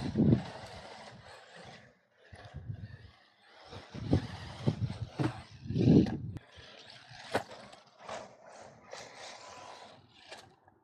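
An Arrma Typhon Grom 1/14 brushed RC buggy drives and drifts through corners, its motor whine and gear chatter rising and falling in bursts with throttle, fairly close and loud at times, with brief pauses between runs.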